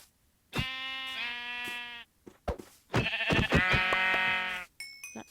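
Sheep in a video game bleat several times, two long wavering calls and a shorter burst, close and clear against quiet, with a faint beep at the end.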